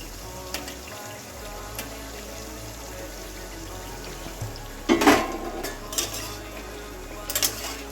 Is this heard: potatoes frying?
yes